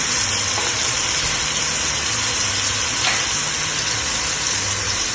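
Onions and minced garlic frying in a pan, giving a loud, continuous, even sizzle and hiss that stays close and steady throughout, with no voices.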